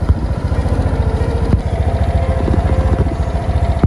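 A motorcycle engine runs in a forest with a loud, steady, rapid chugging and rattling close by, with no talk.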